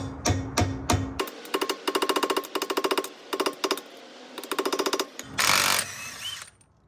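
Rapid metallic hammering in fast bursts, a tool pounding out the staked pinch on a Honda CRX axle nut, close and loud, with brief pauses between rattling strikes.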